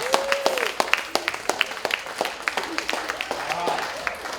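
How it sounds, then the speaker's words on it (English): Scattered clapping from a seminar audience at a beauty pageant training session, uneven individual claps popping out over a soft bed, with voices and a faint whoop mixed in. "Give her a applause."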